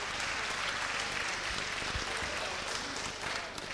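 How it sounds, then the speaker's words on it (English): Dense, steady applause from a crowd at a boxing event, clapping for a boxer nicknamed the Rhino after his bout with a dual world champion, loud and continuous throughout. "come on, give the Rhino a big round of applause."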